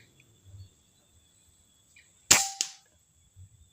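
A Marauder PCP air rifle charged to 2300 fires one sharp, loud crack with a quick secondary snap right after, breaking an otherwise quiet outdoor setting with faint insect chirps.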